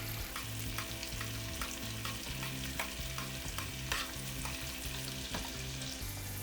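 Scallops sauté in melted butter in a pan, giving a steady close sizzle and crackle with light stirring clinks throughout and no talk.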